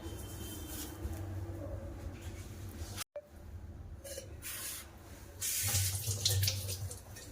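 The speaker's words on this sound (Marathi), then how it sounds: "काय करते आता धुवून घेते हे सीताफळ आणि मोसंबी" Custard apples and sweet limes rinsed under a running kitchen tap, a steady wash of water broken by a brief dropout midway, then swelling louder near the end as the fruit is handled under the stream.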